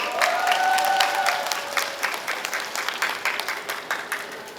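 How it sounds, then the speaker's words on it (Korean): An outdoor crowd at a neighborhood festival for a Korean middle school claps loudly to welcome a teacher, with a steady, dense burst of hands that gradually thins and fades toward the end. "국어를 가르치고 계신 염려아 선생님을 큰 박수로 맞이합니다"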